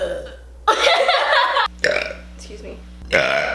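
A woman lets out several loud, drawn-out burps in quick succession, each rough and throaty, with short pauses between them and steady mains hum underneath.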